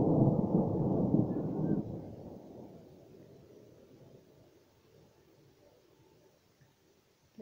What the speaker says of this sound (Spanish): ¿Escucharon los truenos?